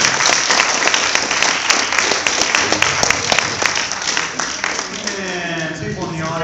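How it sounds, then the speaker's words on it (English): An after-prom crowd gives a round of applause, busy clapping with scattered cheers running loud and close, while a voice speaks over it toward the end. "Give them a nice round as well."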